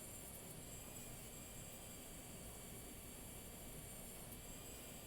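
An electric nail drill motor whirs steadily during a Russian manicure on natural nails, a constant high-pitched whine with broad hiss, unchanging and uninterrupted throughout.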